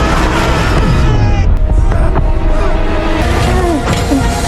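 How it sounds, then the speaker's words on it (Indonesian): A loud, sustained explosion rumble from a sci-fi film scene of a spaceship being destroyed, with a deep booming roar and crashing debris filling the whole stretch. "Dalam ledakan itu,"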